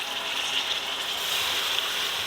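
Water pours steadily into a pot of sizzling fried chickpeas and rice for chana pulao, a continuous hissing rush that stays even and close without pause.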